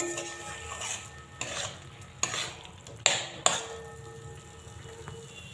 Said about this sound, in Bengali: গুড়টাকে ভালো করে মিশিয়ে নেব।